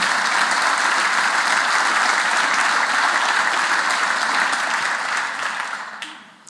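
Sustained applause from a large crowd, a dense even roar of clapping that holds for several seconds before tapering off at the end.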